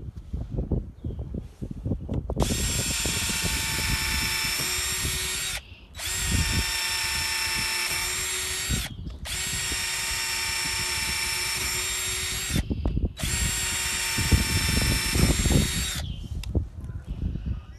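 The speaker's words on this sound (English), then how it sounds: "Now stepping it up to 5/32. Once again, this is one of your standard drill bits," A Black & Decker 20V lithium drill spins a 5/32 multi-purpose bit through material in four sustained, high whining runs of about three seconds each, with brief pauses between, close and fairly loud.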